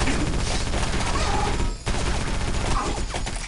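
Gunfire from weapons in the video game Area-51, dense continuous bursts of shots and blasts with a brief dip midway, loud and cluttered with game effects.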